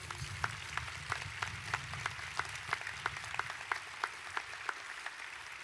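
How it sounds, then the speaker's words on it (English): Steady applause from a large crowd at a Georgia Southern University commencement ceremony, a dense wash of clapping with a few sharper claps standing out, continuing throughout at moderate distance. "please show your thanks and applaud these dedicated individuals"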